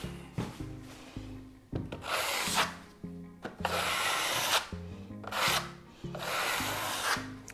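A blade spreads joint compound along a drywall corner bead, long rasping scrapes repeated in steady strokes with short knocks between them, close and fairly quiet.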